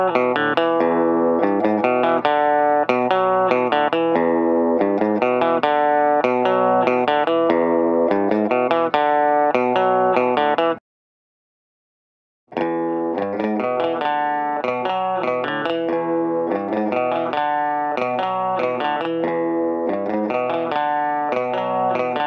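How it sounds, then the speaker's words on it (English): Electric guitar plays a riff, doubled with a roughly 40 ms right-to-left delay; the riff repeats steadily and loud, breaks off for about two seconds, then resumes. "I'm going to double the guitar and have a sort of a right to left delay of about 40 milliseconds"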